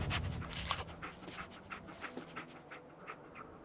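A companion dog in the video game Fallout 4 pants in quick, rhythmic breaths that run steadily throughout, fairly close with low game ambience underneath.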